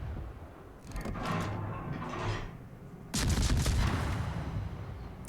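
Naval guns firing in the World of Warships game, from the destroyer USS Farragut: a muffled boom near the start, then a louder, heavier salvo at about three seconds that rumbles on, with no talk.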